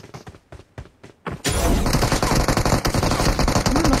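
Dense, sustained video game gunfire erupts after a few quieter thumps, with rapid automatic bursts and a loud, continuous barrage that lasts to the end.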